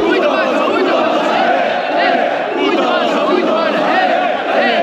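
Dense crowd of football fans in a stadium chanting and cheering together, a loud, continuous wall of massed voices with rhythmic swells, close and unbroken throughout.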